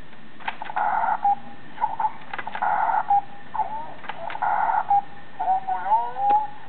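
A DX Seiku-Oh Go-onger toy sounds its special effect: a short sequence of bright electronic chirps and tones with quick pitch sweeps from a small tinny speaker, with a voice talking in the gaps.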